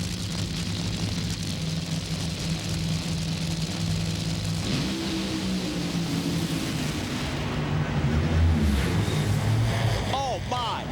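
A nitro funny car roars down the drag strip during an NHRA national event, a loud continuous engine drone with a shifting pitch and a broad mechanical rush, heard at a distance.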